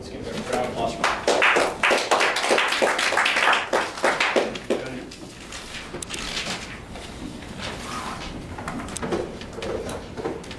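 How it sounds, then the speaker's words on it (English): A small audience claps at a Toastmasters meeting, a dense burst of applause that thins out after about five seconds, with quieter room sound and murmuring afterward. "Let's give him a round of applause for Mike."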